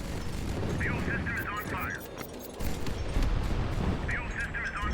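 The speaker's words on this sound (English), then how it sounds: "Now they're shooting the fuel tanks." Gunfire from warships strikes fuel tanks in the naval combat game HighFleet, a dense rumbling barrage of impacts and bursts running continuously, with a voice talking over the battle noise.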